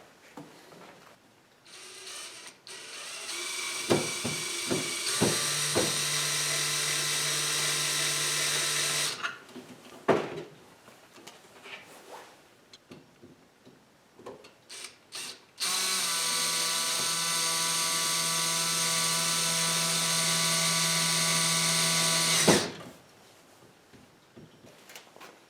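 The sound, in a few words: screwing a part in with a hand tool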